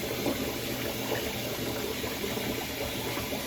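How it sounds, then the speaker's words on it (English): Tap water running steadily into a sink held shut with a rag for a stopper, a continuous close rushing wash with no voices. "Got to hold my stopper rag at the bottom of the sink so the water don't run out"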